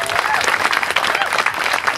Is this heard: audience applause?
yes